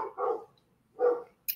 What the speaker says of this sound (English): Are those your dogs there?